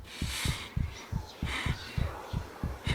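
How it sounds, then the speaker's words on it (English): A thumping heartbeat in Minecraft pulses in steady doubled beats, each pair a deep close thud, repeating about every half second under a faint airy wash. "I hear my heartbeat going louder and louder in each hour."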